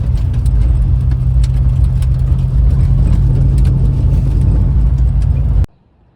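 A 53-year-old Volvo 144 turbo drives along a dirt road with a loud, steady engine rumble and road roar heard from close by, cutting off abruptly near the end.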